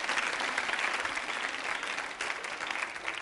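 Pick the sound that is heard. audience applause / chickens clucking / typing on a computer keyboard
audience applause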